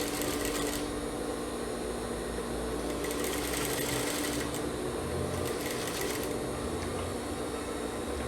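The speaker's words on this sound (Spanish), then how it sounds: "Doblamos acá y cosemos a 1 centímetro." A sewing machine stitches fabric while a long-sleeved military-collar blouse is sewn, its needle chattering in a fast, steady, continuous buzz that swells slightly in three bursts, close and alone.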